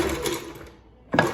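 A Kenmore 385.81808 sewing machine runs in a steady mechanical whir, pauses briefly into near silence, then starts again louder and closer.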